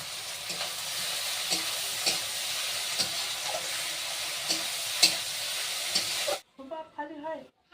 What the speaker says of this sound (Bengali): এবার মোচাটা দিয়ে দেবো তেলে। ভাজতে ভাজতে একদম অল্প একটু করে যায়।